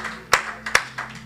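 A congregation at a Friday evening prayer meeting claps in acclamation, a few sharp, fairly close claps heard alone in a short burst.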